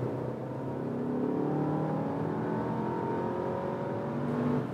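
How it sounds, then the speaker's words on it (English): A Volkswagen Passat B8 with a 1.8 l 180 hp engine and DSG gearbox accelerates on the autobahn, its engine and road noise building steadily in a continuous rising drone heard from inside the car. "Some autobahn acceleration we can test right now."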